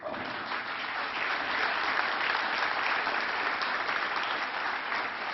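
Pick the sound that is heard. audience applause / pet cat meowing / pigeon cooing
audience applause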